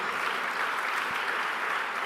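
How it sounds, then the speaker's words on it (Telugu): A church congregation claps steadily at a worship meeting, a dense, even wash of many hands from a crowd filling the room without pause. "మరి నిజంగా మీరు చప్పట్లు గట్టి కొట్టాలి మీరు"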